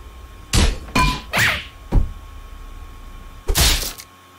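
A neck snap in the Henry Stickmin video game, heard as a run of sharp, loud cartoonish thunks and cracks, four quick hits followed by a pause and then one more bright crunching impact, with no talk.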